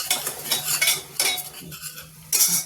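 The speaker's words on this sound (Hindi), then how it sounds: "अब इस मसाले को हम भूनेंगे" A spoon scrapes and clatters in a pan while spice masala with Kashmiri chilli and fenugreek is stirred and roasted for a chickpea curry. The stirring comes in close, repeated bursts with a faint sizzle between them and no talking.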